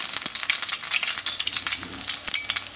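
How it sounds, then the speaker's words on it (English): Grated potato latkes fry in a pan of shallow oil with a bright, busy sizzle full of rapid spattering crackles, loud and close throughout, with no voices. "listen to that sizzle."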